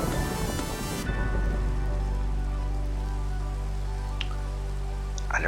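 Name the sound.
rain falling in Minecraft video game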